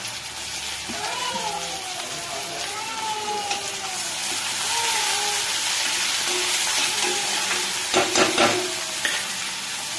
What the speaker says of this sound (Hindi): और हम इसमें अपने टोमेटोज डाल देंगे